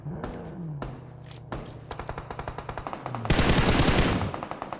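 Rapid automatic gunfire in a video game, with a few scattered single shots and thuds first, then a sustained fast burst that swells louder near the end.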